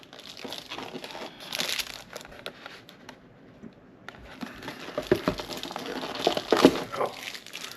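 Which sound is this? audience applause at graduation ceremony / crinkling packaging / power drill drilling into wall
crinkling packaging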